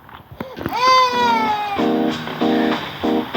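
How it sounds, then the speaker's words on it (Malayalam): A cat meows within the Baby in Yellow video game, one drawn-out rising-and-falling meow followed by a repeating electronic chime-like tone, moderately loud and close with no talk. "അതവിടെ ഒരു പൂച്ച"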